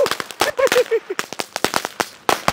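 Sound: Deepavali firecracker bursting

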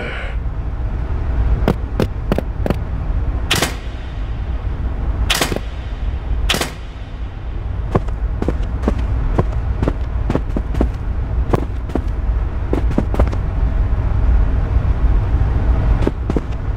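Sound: light artillery firing in the video game Armikrog

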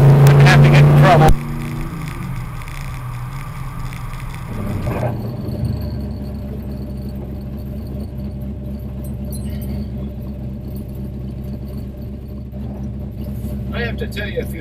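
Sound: 1967 Shelby GT 500 428 V-8 being driven

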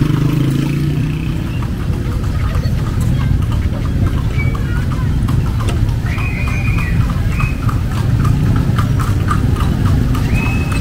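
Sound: horse clip-clopping on a Vigan street

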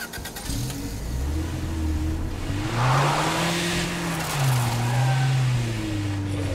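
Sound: car driving with tires squealing in video game State of Decay 2

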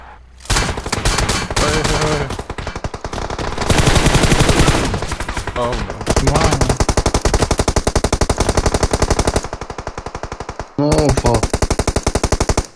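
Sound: gunfire in the video game PUBG Mobile

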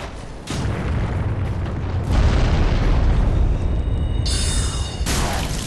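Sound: enemies exploding in video game Dark Souls 3

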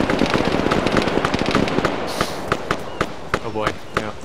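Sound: gunfire in video game Arma 3

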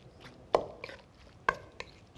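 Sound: stirring food in a kitchen

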